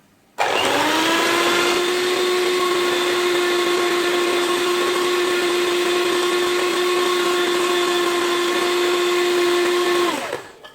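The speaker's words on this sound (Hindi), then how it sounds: "क्रीम को मैं विप करूँगी। इसमें मैं बीटर को चलाऊंगी" An electric beater whips cream to stiff peaks for an Oreo dessert, a loud, steady motor whine that runs unbroken for about ten seconds before cutting off, with no talking.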